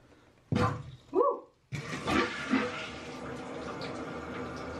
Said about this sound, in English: Well, that's a good sound. Water flowing.